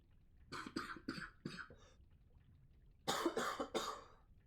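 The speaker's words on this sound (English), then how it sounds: "I feel the urge to cough again" A rapid series of five dry coughs, a short pause, then three heavier, louder coughs close to the listener.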